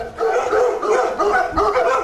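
A small black Schipperke barks in quick, yappy bursts, a run of sharp close barks with slight whining edges, loud and without speech.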